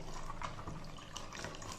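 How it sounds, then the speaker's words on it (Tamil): Water is poured and stirred into thick sorghum porridge (chola koozh), a soft continuous splashing and sloshing with small liquid bursts, fairly quiet and close, with no voices. "அதனால இதை நல்லா மிக்ஸ் பண்ணி தண்ணி கலந்துக்குருவோம்."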